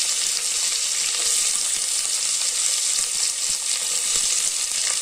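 Curry leaves, tomato and onion sautéing together in a pan for radish gravy, a loud continuous sizzle with faint stirring ticks underneath, no voices.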